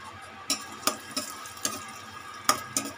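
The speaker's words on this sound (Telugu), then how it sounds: "ఇప్పుడు కిస్మిస్ కూడా ఫ్రై చేసుకుందామండి." Raisins fry in hot oil with a faint bubbling sizzle, broken by a series of crisp, regular clicks from stirring in the pan.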